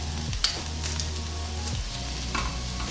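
Garlic sizzles as it hits a pan over medium-low heat for a tuna and aubergine pasta, a steady close frying crackle with a couple of sharp spits and soft clatters.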